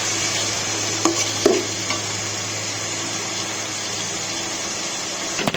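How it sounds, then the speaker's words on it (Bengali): Spices are sautéed and stirred in a pan for a desi chicken curry, a steady sizzle with a couple of soft spoon knocks and scrapes, alone. "এবার আমি মশলাগুলো একটু কষিয়ে নেব ভালো করে পাঁচ দশ মিনিটের মতো"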